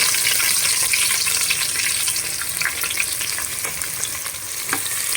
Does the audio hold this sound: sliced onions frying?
yes